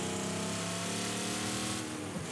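Car engine in the Mad Max video game revving hard, a continuous loud throaty roar with steady harmonic drone throughout, alone with no talk.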